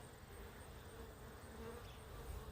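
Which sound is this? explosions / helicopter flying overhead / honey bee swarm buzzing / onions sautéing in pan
honey bee swarm buzzing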